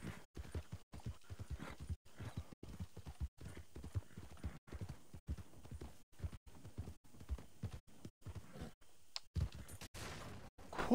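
Rapid, steady hoofbeats of a horse galloping in the video game Red Dead Redemption 2, a continuous run of close clip-clop strikes with no talk, ending in a brief louder burst.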